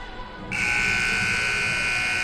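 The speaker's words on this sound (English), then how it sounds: "So there is the buzzer here" After a short stretch of crowd noise at a college exhibition match in a gym, a loud electronic buzzer sounds and holds as one continuous, harsh tone to the end.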